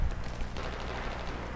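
Rapid bursts of automatic gunfire from the video game Battlefield 3 crackle continuously for under two seconds. The shots are dense and overlapping, with no voices.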